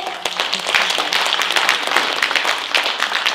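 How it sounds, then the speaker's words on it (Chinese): Audience applause at a Chinese opera concert in the Flushing Town Hall in New York, with dense, continuous clapping spread evenly across the hall and no talking. "让我们再次把热烈的掌声献给艺术家和你们自己"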